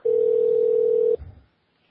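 A single steady electronic telephone ring tone sounds for about a second, then cuts off abruptly, leaving a brief low thump and silence.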